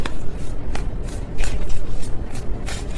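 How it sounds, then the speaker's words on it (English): A deck of tarot cards shuffled by hand in a loose, sloppy way: close, rough riffling rustle with several sharp slaps and flutters, and no talking. "That was a sloppy shuffle"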